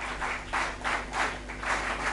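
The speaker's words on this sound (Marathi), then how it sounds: "जोरदार टाळ्या वाजून आपण त्यांचं अभिनंदन करूया." Audience applause at a college foundation day event congratulating student winners, coming in rhythmic swelling bursts of clapping at moderate distance.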